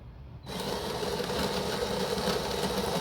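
A De'Longhi Dinamica Plus bean-to-cup espresso machine starts grinding coffee beans after a moment of quiet, its grinder giving a steady close buzzing whir to the end.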